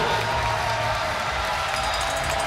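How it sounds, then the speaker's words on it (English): Large crowd cheering and applauding inside a track cycling arena at the 2022 European Championships in Munich, a steady, dense roar of voices and clapping that holds at even loudness throughout, with a commentator's voice mixed in underneath. "They're being urged on by a big crowd in this arena."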